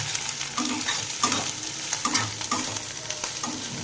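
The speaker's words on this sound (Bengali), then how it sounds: "মশলাটাকে ভালো করে কষিয়ে নেব।" Ground ginger, garlic and onion spice paste sizzles as it is sautéed in a pan over low flame, stirred in a regular scraping rhythm, close and continuous with no voices.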